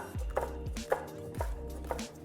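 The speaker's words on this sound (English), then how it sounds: "I like cutting them in littler pieces, so I just chop them." A knife chops mini peppers on a cutting board, with four evenly spaced, close, moderately loud thuds and no talking.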